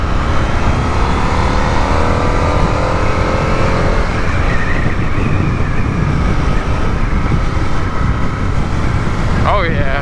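Indian FTR R Carbon motorcycle engine running steadily and accelerating along a road, a loud continuous drone with rising pitch and wind noise throughout.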